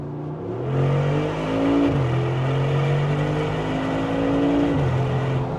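A powerful 700-horsepower Mercedes G63 Brabus engine revs up and settles in a deep, loud roar, with two surges in pitch before easing back to a steady rumble.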